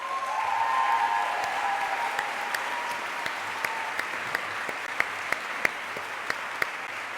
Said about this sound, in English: So I propose we give all of those people a round of applause.